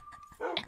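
Dogs in the Minecraft video game give short yips and whimpering barks, close and fairly loud, in a quick burst with no talk over them.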